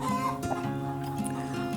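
Rhode Island Red rooster clucking in short bursts close by, layered over a steady, droning background of farm noise.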